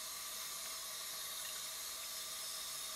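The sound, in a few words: water running from tap for rinsing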